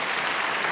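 Audience applause fills a live opera television show, a dense, steady clapping crowd heard up close for under a second with no break.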